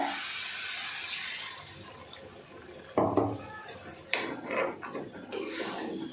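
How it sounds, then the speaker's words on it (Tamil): Water pours with a steady hiss into a cooking pan at first, then fades, followed by a few clanks and scrapes of the pan. "இதில் கொஞ்சம் தண்ணி சேர்த்து இதை வந்து கொதிக்க விட்டுறலாம்"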